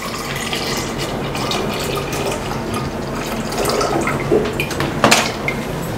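Liquid pours steadily from a commercial tea, coffee and soup making machine at a tea shop, a continuous splashing stream with a few clinks of cups near the end.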